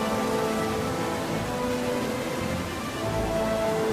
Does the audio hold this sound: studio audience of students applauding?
no